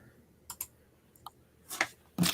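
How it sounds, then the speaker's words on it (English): Several soft, scattered mechanical keyboard clicks sound during an online working hangout: a pair of quick taps, a faint double tick, then a sharper burst of clicks near the end, all fairly quiet against a hushed background. "I hear someone else clicking."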